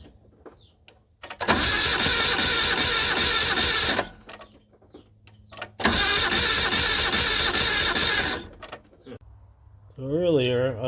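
A Honda N600 sedan that sat outdoors for 16 years cranks loudly in two long bursts of several seconds each with a brief pause between, followed by a short whirring sound.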